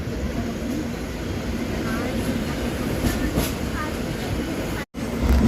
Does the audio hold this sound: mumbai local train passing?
yes